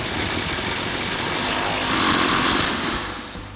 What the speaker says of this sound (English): get our top mounting bolt tightened back down using our 21mm socket and swivel adapter along with an extension on our impact.